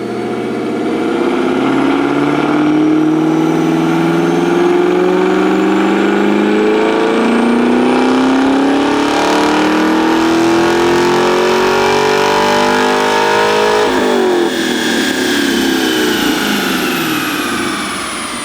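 A Camaro with aftermarket mufflers and a cold air intake screams through a loud, sustained dyno pull, its engine note climbing steadily in pitch for about fourteen seconds before a sharp drop as the throttle lifts and it winds down.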